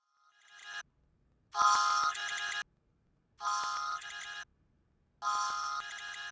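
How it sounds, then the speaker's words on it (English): A phone-ringing sound effect from the anime Yurikuma Arashi trills in four bright electronic bursts separated by short silences, clear and alone. "A phone ringing sound is the most obvious one, which is reminiscent of the sound effect played during the transformation scene in Sailor Moon S."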